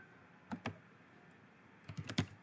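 Two short bursts of keystrokes on a computer keyboard, each a quick cluster of soft clicks, heard close and faint against a quiet background.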